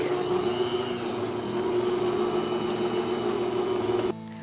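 Wire whisk briskly beating vanilla extract into angel food cake batter in a bowl, a steady, continuous whirring rattle that holds at an even level for about four seconds, then stops abruptly.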